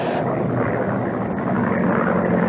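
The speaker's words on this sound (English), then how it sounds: "His tiny single-engine plane is being buffeted without mercy by a ferocious thunderstorm." Small single-engine plane in a ferocious thunderstorm as a radio drama sound effect, a steady loud engine drone with a roaring, windy rush that holds constant throughout.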